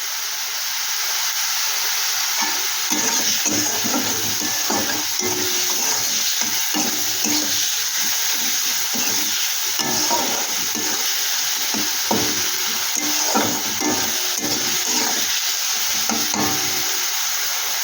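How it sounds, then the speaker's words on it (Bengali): Salted onion frying in a pan until reddish, with a steady sizzle and repeated scraping stirs throughout and no voices. "পেঁয়াজটা একটু লাল লাল করে ভেজে নেব।"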